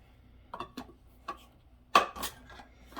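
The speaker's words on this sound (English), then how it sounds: "I'm gonna go ahead and open my can of evaporated milk here. Get my can opener." A manual can opener pierces a can of evaporated milk in a home kitchen, giving a few sparse metallic clicks followed by one sharper crunch, close and fairly quiet.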